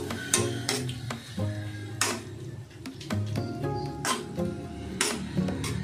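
Kangkong being stirred in a cooking pot, with a string of metallic clinks and scrapes from the utensil against the pot, some sharp and close, over a quiet background.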